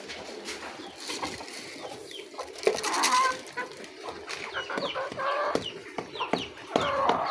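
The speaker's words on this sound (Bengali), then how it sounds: "এগুলো সব আমার হাঁস মুরগি।" A home flock of ducks and chickens clucks and calls in scattered bursts close by, with occasional louder squawks over a low outdoor background.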